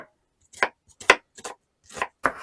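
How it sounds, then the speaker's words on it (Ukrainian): A knife finely chops onion on a board for a meat filling for bendeiryky crêpes: about six sharp, separate chops at an uneven pace, close and crisp, with no talking. "міленько поріжу цибулю"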